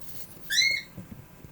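A single short bird whistle, a bright rising chirp followed by a sliding note, fairly close and clear over a quiet background.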